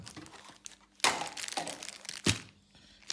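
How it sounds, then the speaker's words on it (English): A package holding a motorcycle tank cap for a BMW S1000 RR is opened close up, with crinkling plastic, sharp tearing bursts and a few light knocks, in short irregular bursts. "So I'm just gonna open this package for you."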